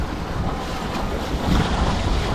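A sailboat heeled under sail on the open ocean during a first sail, with steady rushing wind buffeting close by and waves washing against the hull. The sound is continuous and fairly loud, with no voices.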